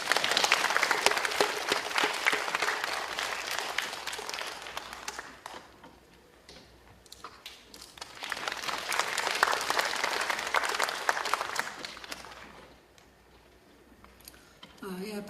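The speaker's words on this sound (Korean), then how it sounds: "박수로 맞아주시기 바랍니다" Audience at a children's composer showcase applauds twice to welcome a speaker, each burst of dense clapping swelling and then fading to near silence, with scattered faint claps in between.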